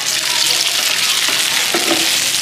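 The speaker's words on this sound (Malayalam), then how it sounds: "ഉരുളകൾ, വേവിച്ച ഉരുളകളിടാം." Cooked rice balls frying in a small pan of coconut oil with mustard seeds and curry leaves, a loud steady broadband sizzle with faint scraping strokes underneath, close and unbroken, no talking.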